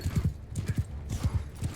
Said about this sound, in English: Rolling on a horse is quite a task.